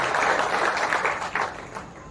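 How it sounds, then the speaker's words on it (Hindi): An audience at a public meeting of the police department applauds to welcome the police staff, a dense wash of clapping that is loud at first and gradually thins and fades out. "आप तालियों से उनका स्वागत करिए"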